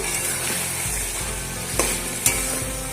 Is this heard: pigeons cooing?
no